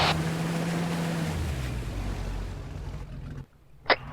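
A boat engine in the ARMA 3 video game drones steadily with a low rumble and wash of water and wind, then cuts off abruptly, leaving near quiet and a brief sharp noise afterward.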